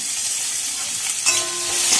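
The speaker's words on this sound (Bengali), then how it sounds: "পেঁয়াজটা একটুখানি আমি ভেজে নেব।" Chopped onion hits hot oil in a pan already tempered with bay leaf, giving a loud, steady sizzle that brightens and crackles harder partway through, with no talking.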